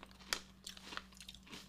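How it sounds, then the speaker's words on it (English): Crunching bites into a cheddar keto cheese crisp, a few sharp crackly crunches close to the mic, spaced out over under two seconds with quiet chewing between. "It's got a really good crunch."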